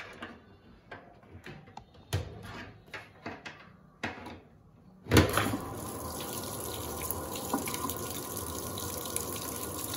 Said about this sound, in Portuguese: Olha que cascata linda.